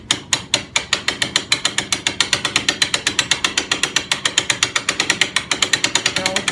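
A brake winch ratchet cranks a pulley in a sharp, regular series of loud metallic clicks, speeding up slightly as cranking continues, close and alone.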